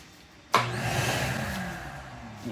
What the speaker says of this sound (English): And then turn on the vacuum.